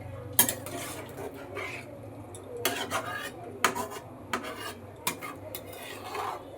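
Metal spoon scraping and clanking in an iron kadai while vegetarian jackfruit and potato curry is stirred, followed by a lid set down; irregular close clinks and scrapes over low kitchen hum.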